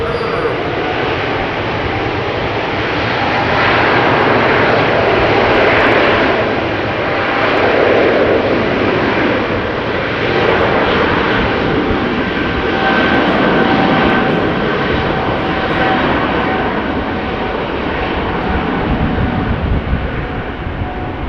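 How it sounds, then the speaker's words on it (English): A KLM Boeing 777-200 jet on a flight to Bangalore gives a loud, steady engine roar that swells and eases slightly across the span, with speech over it at times. "This is KLM flight 879 to Bangalore. 777-200."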